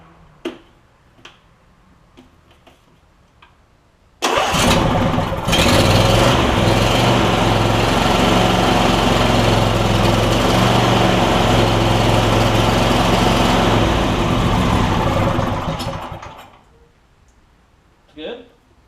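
A Briggs and Stratton engine on a John Deere E140 lawn tractor fires up abruptly and runs loud and steady for about eleven seconds before cutting off, with a few ticks and clicks before and after.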